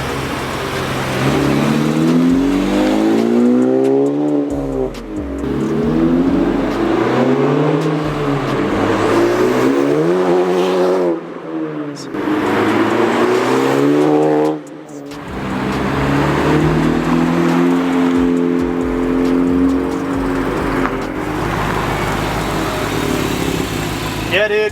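A Honda Civic Type R FK8 fitted with an AWE exhaust revs loudly and up close, its engine note rising and falling through several sustained pulls with brief dips between them, and voices are heard over it.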